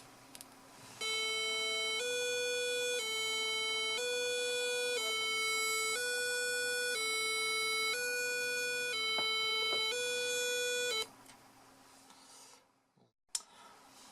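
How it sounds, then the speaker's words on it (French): An electronic siren module plays a French fire brigade two-tone siren, alternating high and low notes in a steady repeating pattern for about ten seconds before cutting off, followed by faint clicks and handling noise. "donc là on va faire le son des pompiers."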